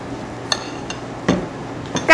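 Mold plate of a Corn Bear crispy cone machine, used for making crispy flower-basket cones from batter, closing with a few short, sharp metallic clanks spaced over a couple of seconds, at moderate level with no voices.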